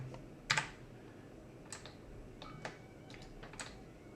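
Keystrokes on a computer keyboard, including the control and plus keys on the numeric keypad, pressed during 3D modelling work: a quick double tap near the start, then scattered single light clicks, close and fairly quiet, with no talking.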